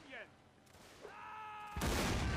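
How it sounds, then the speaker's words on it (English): A cannon fires in a Mount & Blade North & South mod line battle, a sudden loud broadband boom that holds and rumbles for the last moment, preceded by a short voice and quieter battlefield noise. "Listen to that report of the cannon"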